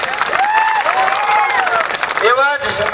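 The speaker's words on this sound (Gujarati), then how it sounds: "એમનું આપણે તાળીઓના ગણગણાટથી એમનું આપણે સ્વાગત કરી લઈએ" A crowd at an AAP political rally claps to welcome Gujarat party president Isudan Gadhvi, the applause running steadily beneath a loud voice speaking over a microphone.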